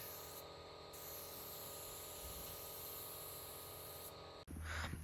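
A spray gun hisses clear coat onto the bonnet of an FZJ 80 Series Landcruiser in a steady, faint, continuous spray, which stops abruptly near the end before a short burst of other noise.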